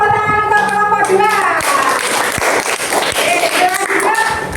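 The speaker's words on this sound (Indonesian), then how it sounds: "Tepuk tangan untuk kelompok 2." A classroom gives group 2 a round of applause, many hands clapping in a dense, lively patter for several seconds, with children's voices and chatter mixed in and a voice calling out over the top.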